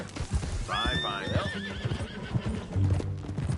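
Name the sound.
horse neighing in video game Red Dead Redemption 2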